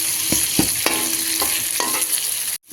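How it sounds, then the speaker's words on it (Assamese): Pieces of fish fry and sizzle in an oily pan, with a steady hiss broken by several sharp scrapes and clacks as a utensil stirs them, close and loud until an abrupt cut near the end. "এইফালে ভাজি আছোঁ"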